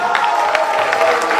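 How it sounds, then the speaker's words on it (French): Young people in a crowd cheer and clap for a singer at a Vodacom singing competition in Kinshasa. The brief noisy wash of crowd sound is steady and fairly loud, with no clear voices over it. "Les amis, les jeunes, applaudissez pour Matete."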